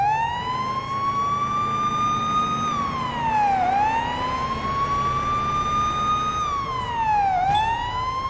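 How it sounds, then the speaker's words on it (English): A video game police car siren wails loudly and continuously, its pitch sweeping up and slowly dropping in long repeating cycles with engine noise underneath. "Turn our sirens on."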